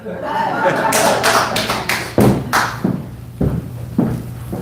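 An audience at a church healing class for elderly people claps, first in a dense burst and then in a few scattered, separate loud claps.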